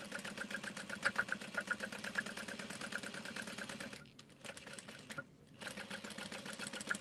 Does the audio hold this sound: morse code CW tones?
no